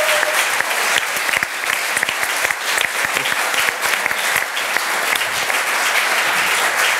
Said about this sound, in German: Applaus für Daniel